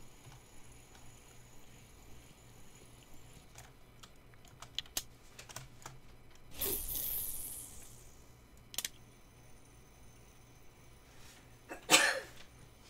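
A single sneeze bursts out near the middle during a Russian Fishing 4 session, with sparse keyboard typing and clicks around it and another sharp burst near the end.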